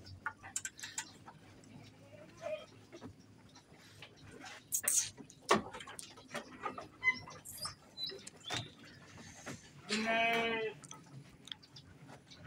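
Goats on a farm bleat over a quiet background of scattered ticks, rustles and small knocks, with one clear bleat standing out near the end.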